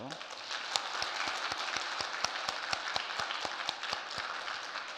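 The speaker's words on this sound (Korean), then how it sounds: "큰 박수로 격려해 주십시오" A church congregation gives big applause during a worship service to encourage a departing minister, dense clapping from many people with a few distinct, sharp claps standing out near the front, steady and loud throughout.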